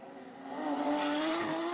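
A Porsche GT race car from the Origin Motorsport team runs through free practice on the Macau street circuit, its steady engine note rising in pitch as it accelerates past, close and fairly loud with no voices.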